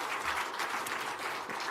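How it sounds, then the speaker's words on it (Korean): A church congregation at a Sunday afternoon service gives a short, steady round of applause that sounds fairly soft and a little distant. "이렇게 만드실 주님께 감사의 박수 올립시다"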